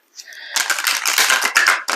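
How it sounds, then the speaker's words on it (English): Tarot cards riffle-shuffled close up, a dense crisp flutter of card edges lasting about a second and a half with a brief break near the end, no talking. "Really good shuffle, guys."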